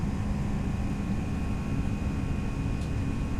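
Toliss A319 airliner engines at climb thrust in X-Plane 11, a steady broadband roar with a faint constant tonal whine, unbroken and even throughout, no voices.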